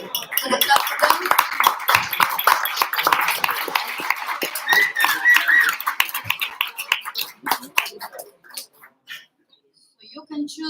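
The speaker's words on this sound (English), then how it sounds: "make a prize and a clap for them" A small audience claps for quiz winners at an Astronomy on Tap science pub night. Scattered, uneven claps run under ongoing talk and thin out after about eight seconds, leaving a few isolated claps.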